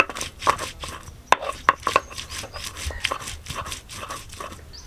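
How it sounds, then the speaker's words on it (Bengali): Onion and garlic being ground into a paste for a steamed mrigel fish dish, heard as a close series of uneven pounding and scraping knocks with brief sharp clacks, loud against a quiet room, no talking. "এখন আমি পেঁয়াজ আর রসুনটা বেটে নেব।"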